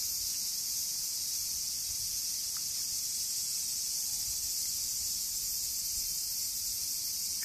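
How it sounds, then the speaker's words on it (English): Cicadas sing in the trees of Tokyo, forming a steady, dense, high-pitched buzzing drone that stays even and unbroken throughout, with no voices. "At this time of the year, there are a lot of cicadas in the trees here in Tokyo."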